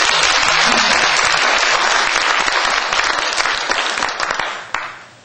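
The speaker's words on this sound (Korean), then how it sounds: "박수 한번 해주세요" A church congregation at a Sunday service claps loudly and steadily for a few seconds, dense applause that thins out and fades at the end.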